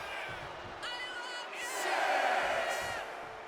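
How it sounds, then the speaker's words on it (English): Arena crowd noise from a capacity audience in Kansas City in the WWE 2K25 wrestling game during a John Cena versus Umaga championship match, a steady roar with whoops and cheers swelling midway before easing off. "Cena will try to gain strength from this capacity crowd in Kansas City"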